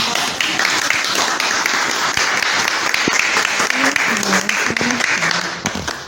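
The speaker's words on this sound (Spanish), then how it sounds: "Les damos un fuerte aplauso." Audience applause at a school presentation by third-year students, steady dense clapping from a crowd filling the whole stretch, with a few voices faintly underneath.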